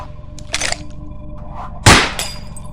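Two sharp pistol shots from a holdout pistol in an animated tabletop-game playthrough, one lighter crack early and a louder, nearer bang near the end, over a low steady background hum.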